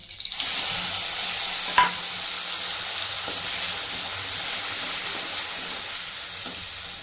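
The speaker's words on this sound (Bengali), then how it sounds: "এই যে রসুন আর কাঁচা লঙ্কা বাটা আছে তেলের মধ্যে ছেড়ে দিচ্ছি" Steady crackling sizzle of garlic and green chili paste frying in hot oil, loud and continuous, with a single sharp clink of a utensil early on.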